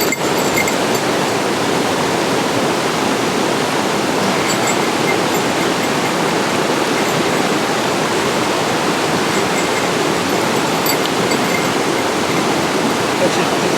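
Cold river water in Japan rushes steadily over stones, a loud, continuous, close-up wash of flowing water with no break.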